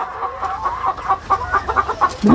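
Chickens on a poultry farm cluck in quick, irregular bursts, loud and close, with overlapping calls from several birds and a sharper squawk at the end.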